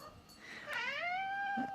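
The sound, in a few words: Maine Coon cat meowing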